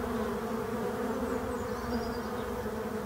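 Black bees hum steadily around hives on flowering ivy at a Breton apiary, a continuous dense buzz with a few individual insects passing close by.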